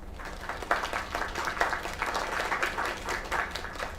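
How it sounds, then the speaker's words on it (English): An audience applauds, a dense patter of many hands clapping at steady intensity for a few seconds, moderately loud and without voices over it. "Another round of applause."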